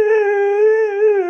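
A husky howls during a bath, one long sustained wail close to the listener, steady and loud for its full length with no one speaking.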